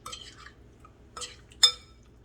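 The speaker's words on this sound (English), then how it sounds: "We're going to stir the orange roughy, coating with this egg wash." Orange roughy fish being stirred in an egg wash: a few soft clinks and scrapes of a utensil against a bowl, with three short bursts separated by quiet pauses and the last one sharpest.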